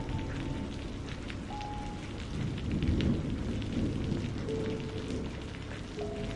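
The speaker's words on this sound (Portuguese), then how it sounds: "Parece que uma tempestade está se aproximando." Steady rain pours while low thunder rumbles and swells in the middle, then eases back under the constant downpour.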